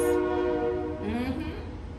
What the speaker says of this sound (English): You hear that? You hear that train?